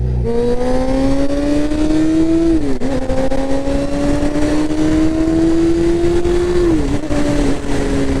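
A Suzuki GSX-R600 motorcycle engine holds a steady drone above 10,000 RPM, with brief dips in pitch as it shifts gears and a sharp backfire pop at the change; constant road noise underneath.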